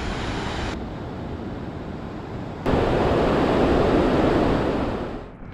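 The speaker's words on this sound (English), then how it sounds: "river is a torrent." A torrential mountain river on the trek from Tengboche to Phortse rushes as a loud, steady broadband roar, swelling louder partway through with some wind buffeting and no voices.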